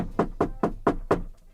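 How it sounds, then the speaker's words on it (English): Knuckles knock on wood five times in an even, quick rhythm, each rap close, hollow and distinct, with no other sound around them. "We're talking about knocking on wood"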